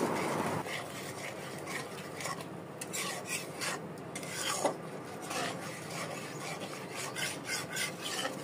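Yogurt and almond paste stirred into chicken korma masala in a pan, giving a continuous close rasping, scraping rub of the spoon against the pot with faint clinks, no voices.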